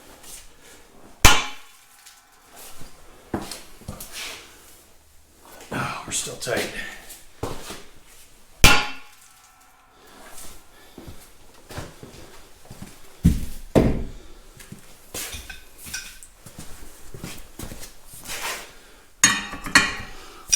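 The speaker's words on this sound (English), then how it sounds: "So sometimes knocking these with a sledge helps them pop" A sledgehammer knocks on the sprocket rings of a Caterpillar D2 crawler tractor's final drive: several loud, sharp metallic blows spaced seconds apart, with softer clanks and someone talking between them.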